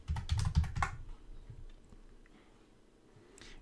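Typing terminal commands on a computer keyboard, a quick burst of close keystrokes in the first second, then a few scattered faint taps.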